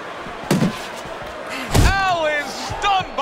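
Heavy punches land in the Fight Night Champion boxing video game, heard as two solid thudding impacts a second apart, with a commentator talking throughout.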